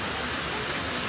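Rain falls steadily outdoors as a dense, continuous hiss of drops with no pauses, loud and close throughout.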